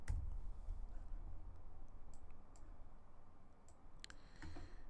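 Computer keyboard typing: a few faint, sparse key clicks scattered irregularly, with a small cluster near the end, heard close but quiet over a low steady background hum.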